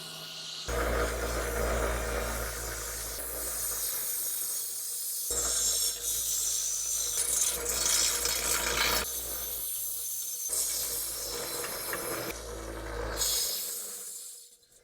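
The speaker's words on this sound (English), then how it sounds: "let's go grind this. Well, polish it. Whatever you want to wire wheel it." Wire wheel whirring and grinding against a welded metal rear wheel part for a homemade rollercoaster cart, loud continuous bursts broken by a few brief pauses, no talk.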